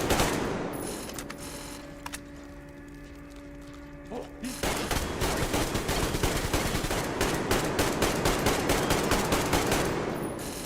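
Rapid automatic gunfire with heavy recoil from a weapon in the video game Metro Exodus, a dense, loud stream of shots that starts after a quieter opening and keeps hammering to the end.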